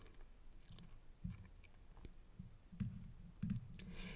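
Several quiet computer mouse clicks while selecting a letter in Embrilliance Essentials embroidery software, short sharp ticks scattered irregularly over a faint background.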